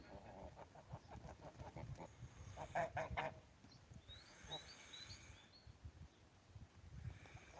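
Geese of a giant breed honk in a farmyard, a series of quick repeated honks early on, then scattered calls and softer chatter at low overall level.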